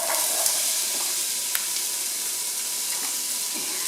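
Onions sizzle steadily in hot oil in a soup pot for sausage soup, a continuous loud frying hiss with a few brief crackles throughout, no talking.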